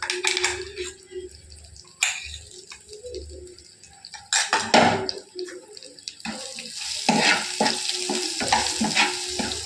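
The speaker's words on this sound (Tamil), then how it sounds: "வெங்காயம் வந்து எண்ணெயில் நல்லா வதங்கிட்டுருக்கு" Onions sautéing in oil in a home kitchen, a busy sizzle with scraping stirs and clatter, swelling louder in the second half with bursts of wet hiss.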